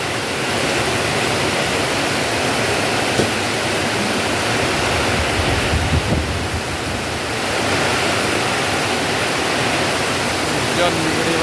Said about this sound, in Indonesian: Hujan gede banget.